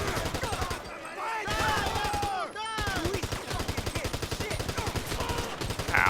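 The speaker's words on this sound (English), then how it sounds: "let's use the military rifle. And let's just take them out until the supplies appear" Rapid bursts of military rifle fire aimed at enemies in GTA V crackle almost nonstop, a dense automatic clatter that continues under someone talking.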